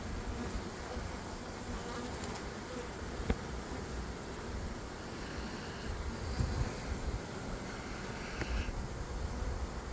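A swarm of honeybees relocating from a hive, producing a steady, dense buzzing hum that fills the whole stretch at close range with no talk over it.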